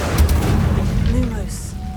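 Incendio fire spell cast in Hogwarts Legacy, a heavy booming burst with a whooshing rush that tails off over about two seconds, loud and close.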